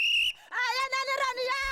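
A shrill whistle used as a disaster warning signal blows in two sharp bursts, the second long and wavering, loud and close with no voices.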